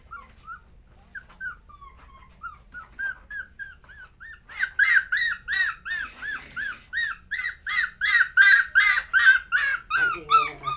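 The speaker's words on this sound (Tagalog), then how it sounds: "Ang ingay ng aking aso." A pet puppy whimpers in high, thin whines that build into a rapid run of yelping barks, close by and insistent, ending in a few rougher cries.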